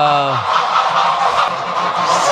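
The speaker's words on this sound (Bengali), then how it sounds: "এদিকে প্রচুর রাজহাঁস আছে।" Geese on a farm honk loudly and close, with a few harsh calls at the start followed by continuous overlapping honking and cackling.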